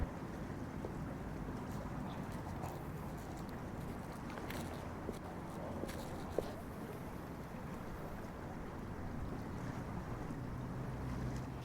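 Outdoor marina ambience at the Elmer Marina beside the Ottawa River in fall, steady broadband wind rumble and water wash with faint boat sounds, a couple of brief knocks, no voices.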